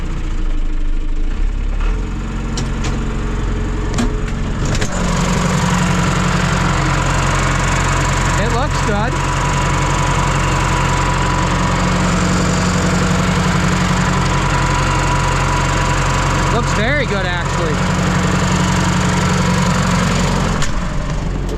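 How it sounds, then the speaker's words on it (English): A John Deere 2755 tractor with failed hydraulics runs with a loud, steady engine drone and a few sharp noises near the start, while people talk briefly over it. "It was gonna make noise at the beginning because it's got no hydraulics."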